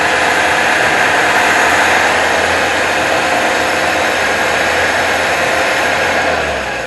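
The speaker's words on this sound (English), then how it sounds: "It's chugging out of the exhaust." A steady, loud engine roar from a 1977 Toyota Celica with rough exhaust chugging runs throughout, continuous and close, easing off slightly at the end.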